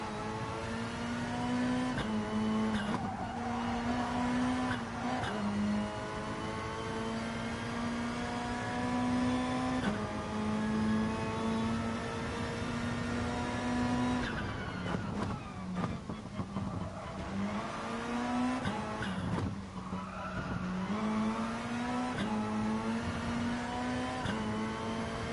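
A GR3 race car in a racing game laps the Alsace circuit, its engine droning loud and steady near the listener, with repeated short dips and pitch drops as it brakes and shifts down before pulling again.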